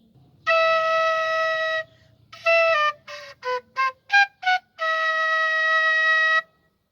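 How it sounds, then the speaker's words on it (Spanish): A quena, an Andean notched flute, plays a clear breathy melody: a long held note, a run of short separate notes, then another long sustained tone, loud and alone, representing a duckling in Peter and the Wolf. "Este instrumento se llama quena y suena así."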